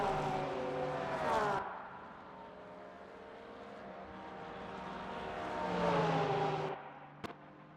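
A Porsche race car engine in a racing video game at the Fuji circuit, running on the start-finish straight, rises to a high-revving whine, fades to a steady drone, then swells again before cutting off.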